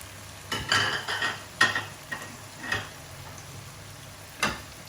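Keema being stirred in a pan with lemon juice, chopped onion and green chili, giving a few scattered scraping and clinking strokes with light sizzling between them, fairly quiet and close.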